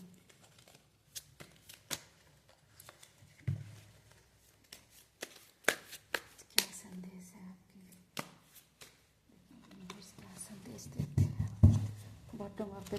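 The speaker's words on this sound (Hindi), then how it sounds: "3 कार्ड निकालते हैं।" Tarot cards shuffled and drawn by hand, giving soft papery riffles and sharp flicks and snaps scattered unevenly, with a denser rustling burst near the end, close and fairly quiet, with low murmuring in the background.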